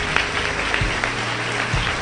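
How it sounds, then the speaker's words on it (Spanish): A church congregation applauds, with a steady wash of clapping that carries evenly for the whole couple of seconds, with no voices on top. "Aplaude al Señor."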